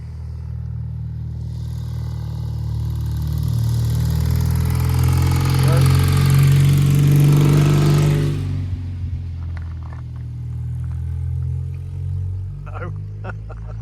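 A motorbike on a rural road in the Lake District approaches with a swelling engine drone, passes loudly close by around the middle, then fades quickly into the distance.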